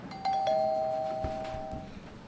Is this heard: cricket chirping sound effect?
no